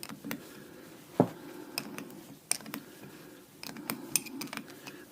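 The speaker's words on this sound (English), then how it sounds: "I'm going to have to get these screws out and see." Hand tools working on screws on a Bobcat 709 backhoe attachment, scattered close clicks, ratcheting ticks and metallic knocks at an irregular rhythm, with no talk.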